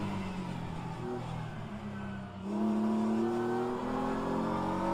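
Hypercar engine in rFactor 2 at Interlagos, a steady droning note that drops, then rises again through upshifts as the car accelerates, continuous and moderately loud with no talk.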